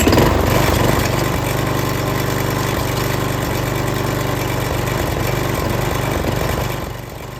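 A Troy-Bilt lawn mower engine with problems runs loud and close, a steady throbbing idle with a rough, pulsing beat throughout.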